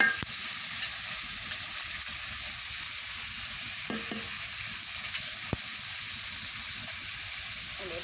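Paneer masala with salt and dry chilli paste sautéing in a pan makes a constant close sizzle and frying hiss, with a few faint clicks of stirring.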